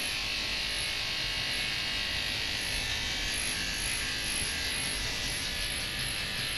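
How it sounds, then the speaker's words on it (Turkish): A barber's electric clippers shave a dog, giving a steady, close, even buzz without pause. "Berber amca tıraş mı yapıyor seni?"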